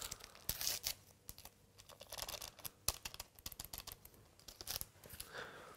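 A paper sachet of baking powder is torn open and emptied while making Tunisian-style zlabia, giving quiet crinkling, sharp tearing rips and rustling taps scattered irregularly, with no talk.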